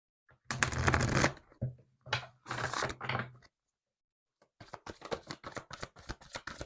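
Oracle cards being shuffled in quick riffling bursts, three loud close flurries separated by short pauses, then a lighter run of rapid card flicks and taps after a brief silence.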